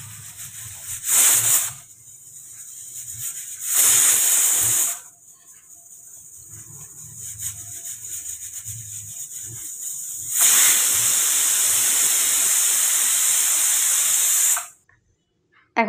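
A pressure cooker of dal on a gas stove lets out long, loud hissing whistles, three bursts of steam with the last one sustained for several seconds, close up, with quieter kitchen noise in between.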